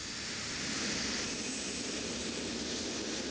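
A jump jet aircraft engine in 1990s Windows 3.1 educational software gives a steady, loud jet roar with a high whine, continuous and unchanging throughout.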